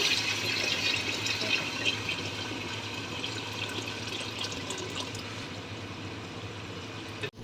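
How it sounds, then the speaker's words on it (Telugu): Mutton soup is poured into a pot of pulav, a steady close splashing rush of liquid that runs continuously for several seconds before cutting off abruptly. "ఇక్కడైతే మటన్ సూప్ అయితే యాడ్ చేసేస్తున్నారు"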